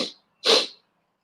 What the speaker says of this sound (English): Sneezing on live YouTube.